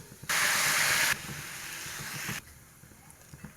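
Crushed garlic, onion, curry leaves and dried chili hitting hot oil, a loud burst of hissing sizzle that settles into a steadier, quieter frying hiss before dropping away, with no talking.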